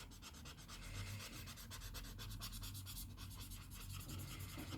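A blending stump rubbing pigment across paper in steady, fast back-and-forth strokes, giving a faint, continuous close-up scratchy rasp with no talking.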